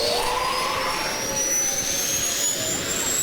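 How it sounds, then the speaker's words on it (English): An F-22 Raptor auxiliary power unit spools up in the Prepar3D flight simulator, giving a loud, steady jet whine with rising high-pitched tones and a broad rushing roar throughout, with no voices. "APU start. And now we get the horrible, horrible noise."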